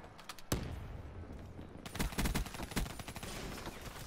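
Gunfire in the Skyjacked video game: a single sharp shot, then a quieter lull, then a clustered volley of rapid cracks and bursts at moderate distance, with no voices.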